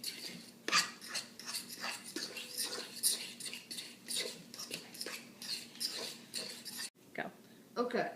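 A spoon scrapes and clinks against a pot while sirloin, potato and rice risotto ingredients are mixed, faint irregular scraping strokes with quiet talk nearby.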